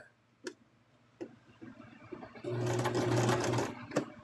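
Sewing machine stitching a plush mothman toy, a few isolated clicks and taps, then a close, steady mechanical whirr of rapid stitching lasting about a second before a final click.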